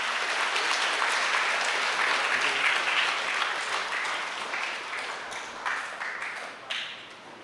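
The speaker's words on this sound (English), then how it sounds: "Can we have a big round of applause," An audience at an official book launch event gives a full round of applause that starts strong, gradually thins and tapers off, with a few last scattered claps near the end.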